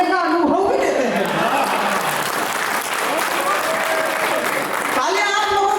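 Loud crowd applause at an all-India poetry gathering, dense sustained clapping close by, with a voice speaking over it at the start and end.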